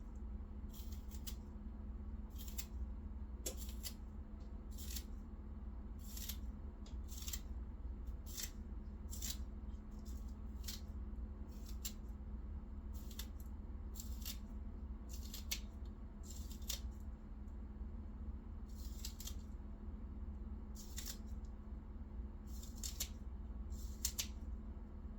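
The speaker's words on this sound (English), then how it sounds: "just cut them up or chop them up and put them in there" Scissors snip green onions in a home kitchen, about fifteen to twenty crisp, separate cuts spread evenly over a steady low hum, with no talking.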